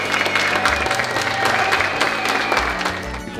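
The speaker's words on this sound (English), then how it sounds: "People in the lobby clapping" People in a hotel lobby at Ross Bridge clap enthusiastically in a close, full burst of applause with some cheering mixed in, steady and loud from start to finish.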